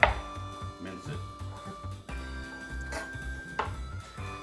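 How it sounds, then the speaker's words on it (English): A knife mincing garlic on a cutting board, with quick rhythmic chopping taps, close and moderately loud, and a lighter scrape or knock mixed in. "flatten a knife, smash it down, mince it"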